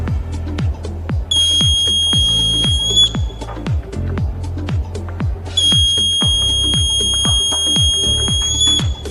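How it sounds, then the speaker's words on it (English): A student-built smoke detector buzzer, wired to a smoke sensor for a school tinkering-lab project, sounds loud steady high-pitched tones in two long bursts, over constant rhythmic tapping and background clatter. "Sensor detective smoke and buzzer is on."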